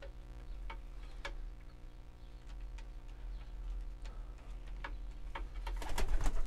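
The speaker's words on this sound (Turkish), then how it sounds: "Güvercinlerim bunlar arkadaşlar." Bango pigeons in a coop cooing softly amid scattered ticks and rustles, a low, steady murmur that swells near the end.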